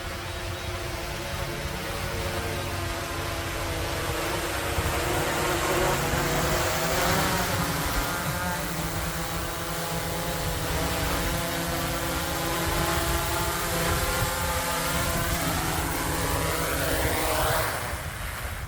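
A DJI Mavic 3 drone flying and then landing during an altitude test near 180 feet gives a steady, loud whirring rotor hum with shifting whine tones that rise and fall as it descends, continuous and without speech.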